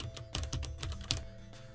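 A computer keyboard being typed on, with a quick run of about a dozen light, close keystrokes at a quiet level and no speech.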